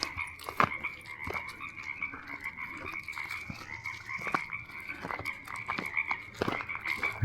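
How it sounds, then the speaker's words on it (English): Frogs croak outdoors in a steady chorus, with repeated sharp, loud calls rising over a continuous trilling background, heard close and alone without any talk. "You're gonna scare the frogs away."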